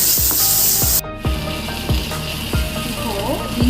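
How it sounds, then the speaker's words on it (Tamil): Ginger garlic paste is sautéed with prawns in a pan: a utensil scrapes and stirs in regular strokes about every half second over a low sizzle, close and fairly loud. A faint voice may be heard in the background. "இஞ்சி பூண்டு பேஸ்ட் கொஞ்சம் போட்டுக்கலாம். கூடவே சேர்த்து நல்லா வதக்கிக்கோங்க."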